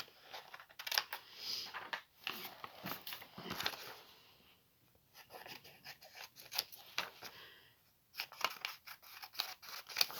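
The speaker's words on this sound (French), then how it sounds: "je vais découper mon papier" Scissors cutting paper for a December Daily craft project: repeated close snips and crisp rustling in several bursts, with short quiet pauses between runs of cuts and no talking.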